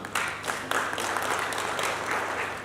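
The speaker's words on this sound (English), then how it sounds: "So a round of applause for Gideon as he comes." Audience applause at a breakfast meeting on apprenticeships in Kenya, a steady round of clapping from a seated crowd that holds at an even level for the full stretch, with no talking over it.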